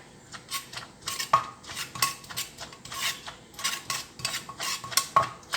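A pestle pounds papaya salad with tomatoes in a mortar, giving a steady series of dull knocks and scraping strokes, close and moderately loud, with no voices.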